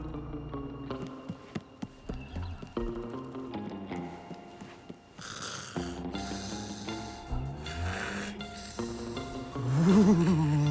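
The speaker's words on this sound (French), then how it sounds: "Et l'autre andouille qui ronfle comme un sac." A cartoon character snores loudly through a comedic animated holiday scene, rhythmic rasping snores mixed with music and sound effects, rising at the end.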